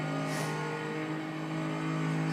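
A 2011 Lotus Evora S engine in Forza Horizon 2 holds a steady, droning tone with strong harmonics and a short rise at the start, loud and close, with no talking.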